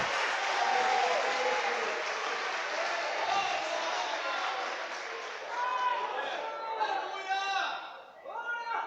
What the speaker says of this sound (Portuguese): Aplauda Jesus de Nazaré aí bem forte